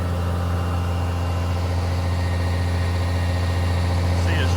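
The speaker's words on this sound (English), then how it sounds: "The tractor's driving in the drive road that we'll harvest in" A tractor engine runs steadily on a farm drive road, a constant low diesel drone with a rough mid-range rattle, close and continuous without pauses.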